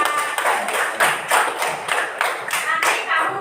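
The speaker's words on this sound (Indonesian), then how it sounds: "beri tepuk tangan buat Akila" A classroom of pupils claps together for a classmate during a school science lesson, a steady run of close, lively hand claps with voices mixed in.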